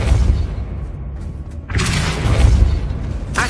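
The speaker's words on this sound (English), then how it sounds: "Depulso!" A Depulso knockback spell blast from Hogwarts Legacy lands as a sudden booming whoosh after a brief low rumble, then sustains a loud, crackling burst that tails off with a short final flick.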